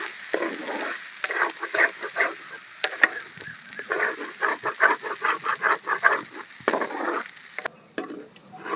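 Soaked, ground chana dal paste being stirred and mixed in a pan with a spoon, a run of rhythmic wet scrapes and soft sizzling pats, close and moderately loud, ending with a brief quieter pause.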